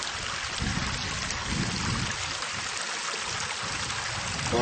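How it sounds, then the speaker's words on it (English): Water streams steadily out of a mountainside on the way down toward a lake, a continuous broad rushing flow that is close and fairly loud, with no voices. "There's some water coming right out of this mountain."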